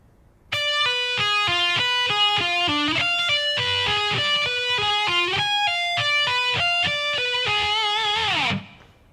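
Electric guitar plays three arpeggio sections one after another at a slow tempo, a steady stream of ringing picked notes with a faint distorted edge, loud and close, ending with a sliding drop.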